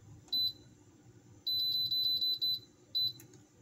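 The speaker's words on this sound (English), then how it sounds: "I'm just going to set up the air fryer to 8 minutes." An air fryer beeps as its timer is set to 8 minutes: a short pair of bright electronic beeps, then a quick run of about eight, then one more, close and clear with no talking.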